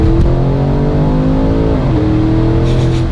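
Porsche 992 GT3 engine revving hard and steady, a loud sustained drone with a brief pitch dip and climb, heard from inside the car.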